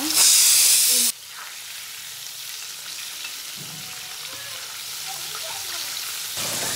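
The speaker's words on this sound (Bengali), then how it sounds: "তো এখানে হচ্ছে ইলিশ মাছ ভাজা হচ্ছে।" Hilsa fish frying in a pan during a home New Year meal, a steady soft sizzle and hiss running throughout, with a brief louder burst of noise at the start.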